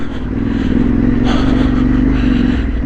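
An adventure motorcycle drones loudly and steadily on a dirt trail ride. The engine is close and constant, with a rougher, scraping surge partway through.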